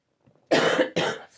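Two close, forceful coughs in quick succession from a person at a card-making craft table, each a short harsh burst with a brief gap between them.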